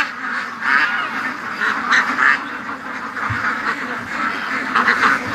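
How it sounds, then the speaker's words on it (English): A small wild duck quacks repeatedly on a lawn, loud and close, in a series of raspy calls with short pauses and no talk. "Oh, there's a little wild duck."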